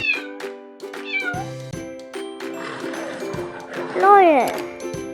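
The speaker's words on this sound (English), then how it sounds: "baby name cat, and its baby name is kitten." A cat meows several times in a row, short bright calls at close range with a longer rising and falling meow near the end, over faint jingling tones.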